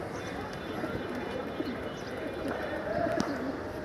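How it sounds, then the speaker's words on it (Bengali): A lively pigeon gives faint, intermittent coos, low under a steady hiss of background noise, with no talking. "আর কবুতরটা খুব অ্যাক্টিভ, ভালোই ডাকাডাকি করে"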